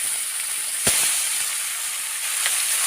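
Fish fries in hot oil with salt, turmeric and chili powder, giving a continuous bright sizzle and hiss with a brief sharper crackle near the start and another faint one later.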